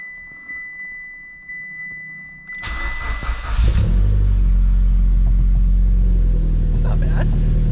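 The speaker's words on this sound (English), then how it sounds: "First start, cold start." A Mitsubishi EVO X engine starting from cold: a short whirring crank, then it catches with a loud rumbling roar that settles into a steady, high, fast idle close by.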